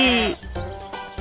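A sheep on a farm gives one loud, close bleat, followed by a few quieter thuds and shuffling sounds.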